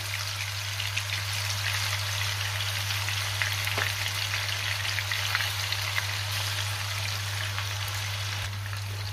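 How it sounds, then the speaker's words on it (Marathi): Rohu fish frying in hot oil in a pan, a steady dense crackling sizzle that runs unbroken and fairly loud throughout, with a low constant hum beneath it. "आता एका साइडनी साधारण 2 मिनिटं मी फिश फ्राय करून घेणार आहे"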